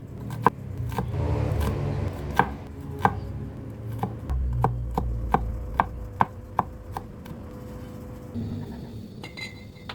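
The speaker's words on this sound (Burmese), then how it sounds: "ကြက်သွန်ဖြူကိုထုပြီးတော့" Garlic cloves pounded and chopped on a board for a seafood stir-fry, with a steady run of sharp, close knocks at an irregular rhythm and a faint clink of utensils, no talking.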